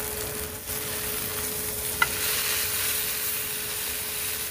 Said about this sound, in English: Let's go get a sear on the cast iron pan.